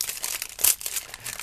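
A plastic bag holding a Lego minifigure crinkles close up in a short burst of dry, irregular rustling and crackling.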